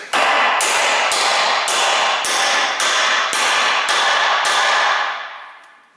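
A hammer strikes a punch to drive out a U-joint on a vehicle drive shaft, nine sharp ringing metallic blows at an even, brisk pace, loud and close, the last one fading away.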